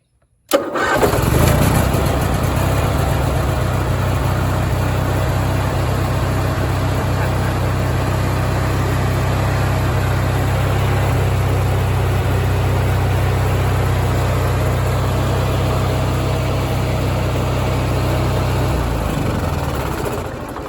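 An Onan gas generator, a former motorhome unit now in a backup setup, cranks and catches, then runs at a loud, steady drone for about twenty seconds before winding down at the end.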